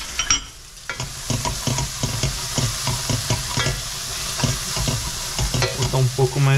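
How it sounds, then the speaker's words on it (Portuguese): Sliced sausage and onion fry in oil in a pan, giving a steady sizzle broken by repeated scraping stirs of a utensil, close and loud with no talking. "A gente quer fritar ela bem."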